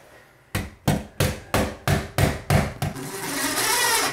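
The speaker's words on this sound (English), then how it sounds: "This is my rubber hammer." A rubber hammer taps eight times in a steady, even rhythm, each blow close and dull, before a continuous rushing noise takes over, during a modern rustic bathroom build.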